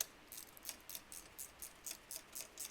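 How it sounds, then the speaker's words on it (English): A QU-AX ratchet tightening a wheel nut on a unicycle makes a steady run of faint, close mechanical clicks at an even, quick rhythm, with no voices. "just tightening the nut"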